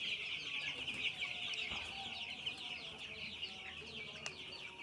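Fifteen-day-old farm chickens cluck steadily in a dense, busy chorus of many birds, with occasional sharper calls standing out above the constant chatter.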